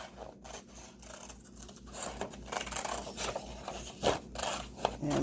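Paper being cut into shapes with scissors, a faint, quiet run of irregular snips and rustles, with a couple of slightly sharper cuts near the end and no talking.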